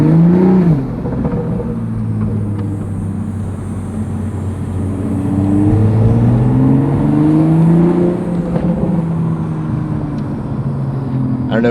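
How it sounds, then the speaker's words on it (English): A 2021 Toyota Supra A90 engine revving, with the turbo whistling and spooling, heard as a steady drone with pitch that climbs and falls across several rev swells, close and continuous. "You can hear the whistle and you can hear it spooling."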